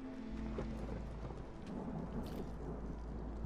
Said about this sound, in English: The storm approaches.